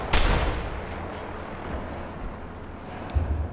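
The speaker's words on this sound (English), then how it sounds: "Where am I getting shot from?" Gunshots ring out in Fallout 4 during the Curtain Call quest. A sharp, loud blast opens the sequence, then a noisy rumbling tail follows, and another shot hits near the end. No one speaks.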